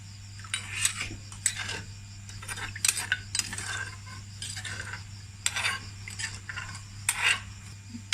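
A utensil stirs curry paste into a pot of mushroom curry, giving repeated scraping and clinking strokes against the pot over a low steady hum, with no talk.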